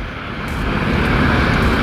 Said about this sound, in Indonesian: Saya di sini sudah rendah dan posisi helikopter jauh di atas saya